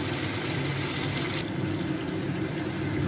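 Hot water pours into a pan of chicken being cooked, a loud, continuous rushing splash close to the microphone that softens a little halfway through.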